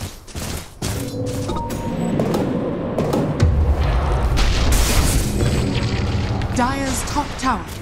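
Tower under attack in a Dota 2 match, heavy booming impacts and crackling combat bursts layered with game effects and voices, continuous and loud with shifting explosive thuds.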